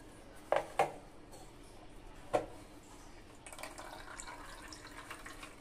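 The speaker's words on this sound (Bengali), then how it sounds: "এবার আমি জলটা ঝরিয়ে নিব" Rinsed chhena is drained by hand, giving a few soft splashes and drips early on, then a faint steady trickle of water running off in a quiet kitchen.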